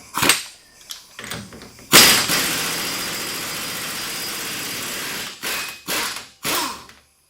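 An impact wrench fitted with a 32mm socket spins off the hub nut of a Yamaha Rhino's rear hub. A sharp burst starts a loud sustained whirr of about three seconds, followed by several short buzzing bursts close by.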